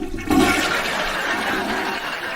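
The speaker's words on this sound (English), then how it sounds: "I couldn't hear you over the toilet flushing" A toilet flushes in a bathroom stall, a loud close rushing gush that swells quickly and then holds as steady running water for a couple of seconds, with no voices over it.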